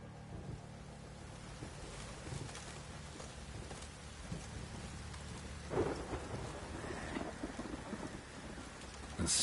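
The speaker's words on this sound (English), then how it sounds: "A storm, damn it." Rain falls steadily during a thunderstorm in The Witcher 3 video game, with low rumbles of thunder and a louder crack near the end, the downpour faint and continuous.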